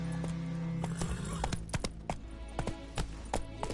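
Roach, a horse in The Witcher 3 video game, trots with crisp, rhythmic hoof clip-clops and gives a whinny early on, close and clear with no speech.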